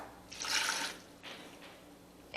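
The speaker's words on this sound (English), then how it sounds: "I'm going to add ½ a cup of water" Half a cup of water poured into a pot of chopped, seasoned potatoes inside a Ninja Foodi, a soft splashing trickle that swells and then fades in short bursts, fairly quiet, ending with a sharp clunk.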